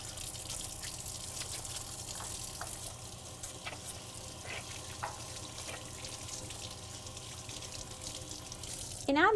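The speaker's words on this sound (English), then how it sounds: "Now I'm gonna wash my hands because I touched the shrimp." A kitchen tap runs steadily during handwashing, a continuous close splashing hiss with a few faint clinks, ending with a brief sharper sound.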